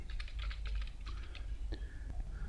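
Keys clacking in quick irregular bursts as an email subject line is typed on a computer keyboard, close and fairly quiet with steady low room hum underneath.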